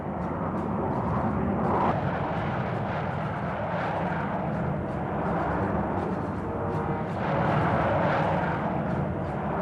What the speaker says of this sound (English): the Lockheed F-117A stealth fighter, also took part in these opening strikes